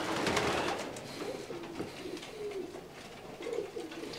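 Racing pigeons cooing inside a pigeon loft, a soft, steady layered murmur of low coos from several birds nearby, with no one speaking.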